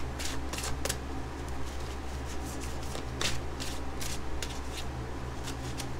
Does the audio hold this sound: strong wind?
no